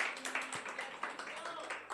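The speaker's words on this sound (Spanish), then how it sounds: "Denle un aplauso de alabanza al Señor" A church congregation applauding together, a dense wash of many hands clapping in a roomy space, steady and moderately loud for a couple of seconds.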